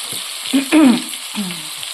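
Onion and garlic fry in a pan, giving a constant close sizzling hiss with brief louder tonal bursts over it.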